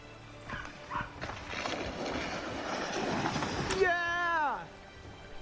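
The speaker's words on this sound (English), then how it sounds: "I hear a dog yap, and that's a little yappy ass dog." A small yappy dog gives a few quick high barks in a World of Warcraft scene, heard under game sounds, rushing noise and someone talking.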